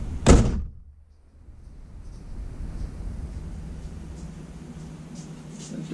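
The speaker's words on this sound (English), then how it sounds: "The door slams like a Jeep." A single heavy Jeep TJ door slams shut with a sharp thunk up close, followed by quiet background hum.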